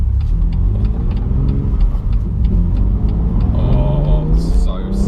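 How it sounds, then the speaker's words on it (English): A 2019 BMW M2 Competition engine drones steadily from inside the car, then its revs rise sharply near the end as the throttle blips on a downshift. "it's got a little throttle blipper, so let's just see if we can get that to work as I'm coming down here"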